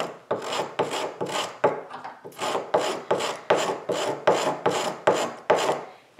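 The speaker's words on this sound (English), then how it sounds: "It works much better on spruce, which is a softer piece of wood." A carving gouge slices along the grain of a soft spruce violin top in about a dozen steady, rhythmic scraping strokes, each a close, crisp rasp with short pauses between, and no voices.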